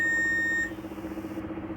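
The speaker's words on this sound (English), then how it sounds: "there is a beep" A multimeter continuity beep sounds while probing the gate of transistor PQ12 on an HP laptop motherboard, a single clear steady tone lasting about half a second before cutting off.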